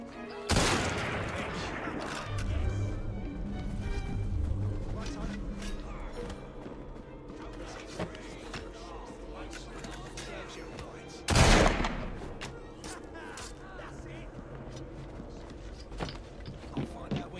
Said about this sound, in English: Draw your weapons and fire!